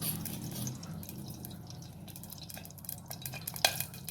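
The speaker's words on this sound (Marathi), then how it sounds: "आता जिरे मोहरी टाकून घेऊ आपण." Cumin and mustard seeds in hot oil, crackling and popping in quick irregular bursts with sharper spits near the end, quiet and close.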